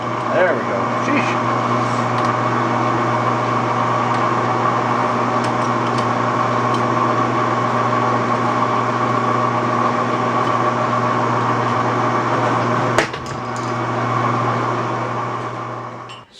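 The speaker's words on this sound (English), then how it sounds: "So I'm still playing with the lathe and the tubing here for the steering column shortening." A metal lathe turns steering column tubing with a steady mechanical hum and whine, a sharp clunk near the end, no talking.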